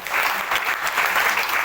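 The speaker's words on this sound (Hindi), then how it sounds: "एक बार जोरदार ताली" Enthusiastic audience applause at a motivational business meeting in India, dense steady clapping that holds loud and even throughout with no voices over it.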